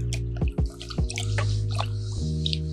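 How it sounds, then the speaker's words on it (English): A brush stirs dye paint in a container, giving a few soft wet drips and squishy swirls, close and fairly quiet, with no talking. "Just give it an extra stir."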